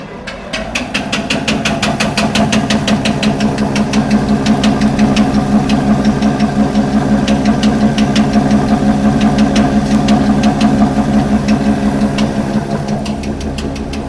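An engine-driven atta chakki flour mill starts up and runs steadily, a loud continuous mechanical drone with a rapid rhythmic knocking beat and ringing overtones throughout, with no speech.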